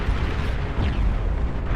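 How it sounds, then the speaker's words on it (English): Flagship artillery bombardment in BAR, a dense, loud rumbling wall of explosions and booms with no break. "Just dropping massive artillery pain upon Limidium, who can't do anything about this."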